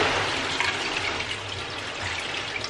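Water poured from a jug into an electric pressure cooker, a continuous close splashing and gushing stream that keeps steady for a few seconds.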